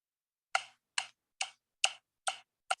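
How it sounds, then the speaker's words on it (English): Pro Metronome phone app ticking at a steady 140 beats per minute, six crisp evenly spaced clicks, close and clear with silence between them. "So this is something called Pro Metronome."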